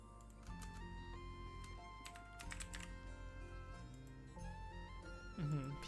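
A search term being typed on a computer keyboard while playing Ragnarok Gravity produces quick, light key clicks in short bursts, heard under background game music and a voice.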